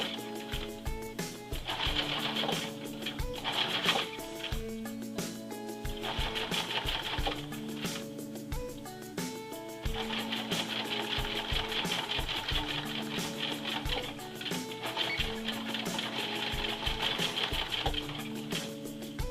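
A sewing machine stitches a short run along a coat hem with the lining sandwiched in, a steady close mechanical whir and rapid needle patter that runs almost continuously with brief pauses.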